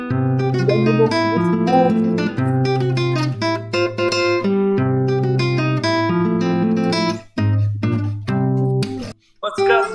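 A guitar plays the Super Mario theme from the Dendy console game, a busy, continuous run of bright melodic notes that sounds close and loud throughout.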